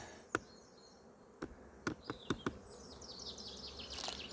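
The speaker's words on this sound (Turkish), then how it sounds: "Arıların çalışması çok güzel." Honeybees buzz softly at the hive during a spring colony inspection, a faint, thin drone with a few sharp clicks and taps scattered through it.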